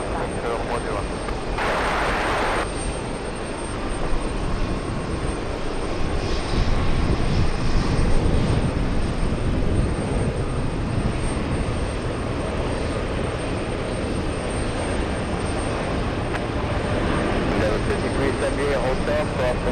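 Jet airliners roar at JFK airport beside the TWA Hotel, a steady loud engine drone with a swell near the middle, while a voice talks over it throughout.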